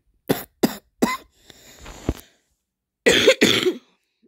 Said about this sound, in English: I have a little cough right now.